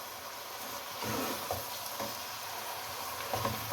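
Potatoes, fenugreek leaves and spinach sizzle and fry steadily in a pan for aloo methi sabzi, with a constant hiss and soft scraping stirs now and then.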